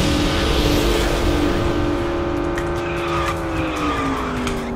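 A kart in the KartRider racing game, the transparent Golden Carriage model, gives a loud, continuous high engine whine that shifts in pitch while its tires squeal and skid through the corners.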